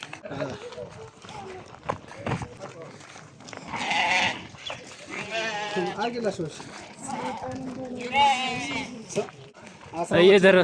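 Several goats bleat in bursts at a livestock market amid a busy outdoor crowd, with people talking throughout and calls rising near and far.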